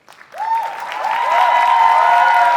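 Theatre audience applauding the crew and staff at the final curtain-call stage greeting of a musical, a dense sustained ovation that swells and holds loud with a few cheering voices over it.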